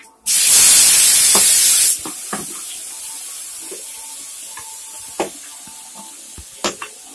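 Vegetables hit a hot pan in a loud, hissing burst of sizzle that lasts a couple of seconds, then settles into a quieter crackle with scattered sharp pops and clinks.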